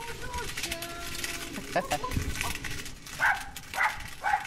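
A dog gives a few short yips and whimpers near the end, while people talk throughout.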